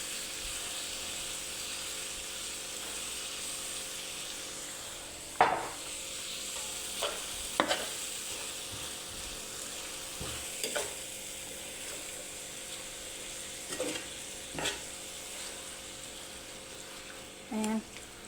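Sauce hits a hot pan and sizzles softly while being stirred, with a faint steady fry hiss broken by occasional utensil scrapes and clinks, fairly quiet and close.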